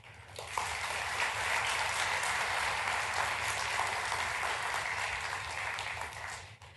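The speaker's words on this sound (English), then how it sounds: "All this applause is for every one of you for stepping forward to defend our great nation." Steady applause from an audience at a high school military enlistee recognition ceremony swells quickly, holds as a dense wash of clapping and fades slightly near the end.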